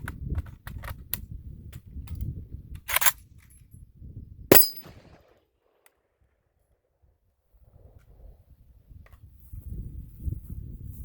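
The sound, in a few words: magazine being worked out of a Zastava ZPAP M70 AK47 rifle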